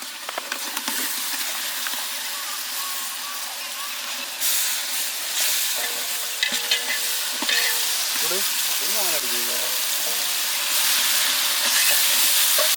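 Onions and ginger garlic paste sauté in a large pot for a 5 kg village mutton biryani, giving a continuous loud sizzle and hiss with occasional stirring scrapes and some faint tonal noise in the background.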